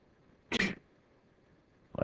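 A single sharp sneeze in a quiet classroom, a brief loud burst standing alone against low room hiss, with the start of another noise cut off at the very end.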